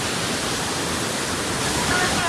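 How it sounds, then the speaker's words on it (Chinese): Yuntai Mountain's waterfall at the deepest end of the gorge, billed as Asia's tallest, roars in a loud, dense, unbroken wash of falling water heard from nearby. "看这个瀑布，这就是峡谷最深处的云台天瀑"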